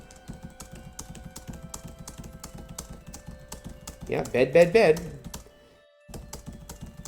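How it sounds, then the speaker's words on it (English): Rapid clicking of computer keyboard typing, picked up close by a microphone during a live retro game stream, steady throughout with a short burst of talk over it near the end and a brief pause. "Is my typing being picked up by my microphone?"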